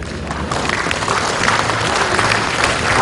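A hall audience at a retirement ceremony gives a sustained burst of applause, dense and loud throughout, with a crowd murmur beneath the clapping.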